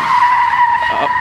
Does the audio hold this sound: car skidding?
yes